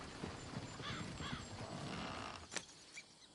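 Horses in Red Dead Redemption 2 snort and whinny over a soft background, with one sharp neigh near the end, moderately close.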